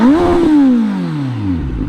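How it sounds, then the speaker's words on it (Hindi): A 2023 Kawasaki Z900 with an Arrow slip-on exhaust revs hard, then the engine note falls away in one long, loud deceleration, heard up close with no voice. "भाई एरो का जो है ना, स्लिप ऑन का एग्जॉस्ट सुनो।"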